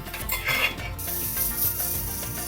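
Spice mixture with slit green chillies being stirred in an oil-laden pot for chicken biryani, giving close, steady scraping and clinking against the metal over a soft continuous sizzle.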